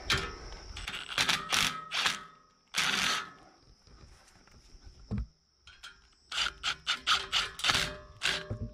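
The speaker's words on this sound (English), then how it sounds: "Final tightening of the rebar." Rebar being tightened by hand on a geodesic dome frame, giving a series of close, sharp ratcheting and metallic clicking bursts in clusters with short pauses between them, and no talking.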